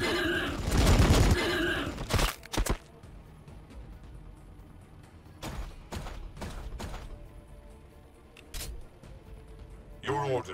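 Gunfire in Warhammer 40K Battlesector comes as a dense opening burst, then sharp separate shots spread across the battle, with game voices and effects mixed in.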